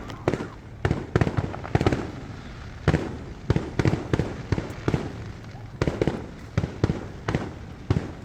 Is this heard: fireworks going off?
yes